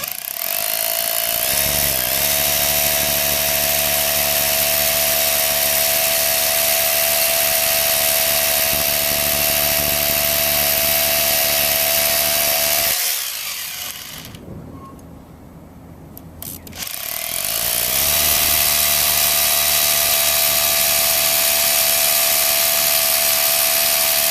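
A loud, steady drill grinds into granite for a long stretch, pauses for a couple of seconds, then resumes with the same harsh, continuous roar.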